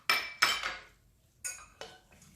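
Sautéed onions are stirred in a non-stick pan, giving four sharp scraping clatters of a utensil against the pan in two close pairs, loud and near with no one talking.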